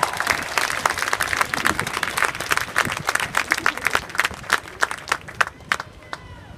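Applause rises from an audience at a public address after a call to honor a movement leader, with many overlapping claps sounding dense and sustained, then thinning into sharper, scattered individual claps near the end.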